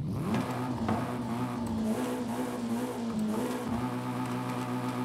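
Video game car tuned with 20 extra horsepower revs hard, its engine climbing and dipping through repeated throttle blips, loud and continuous with a faint squeal, no voices.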